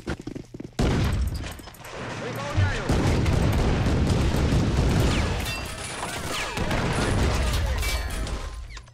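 Artillery fire and explosions in the WWII strategy game Men of War: Assault Squad 2, a dense, continuous barrage of booms and gunfire rumbling loudly for most of the stretch after a brief quieter opening.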